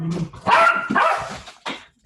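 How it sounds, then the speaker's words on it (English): A dog barking: a few loud, close barks in quick succession with short gaps between them. "Dogs are loud."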